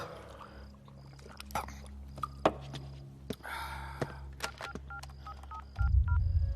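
A series of short telephone keypad tones beep one after another, with soft clicks and handling noise, ending in a burst of low rumble.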